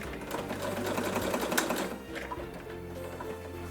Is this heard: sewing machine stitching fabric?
yes